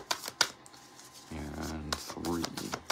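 Quick riffling of cards being shuffled, a few short crisp bursts close by, with a voice speaking briefly between them.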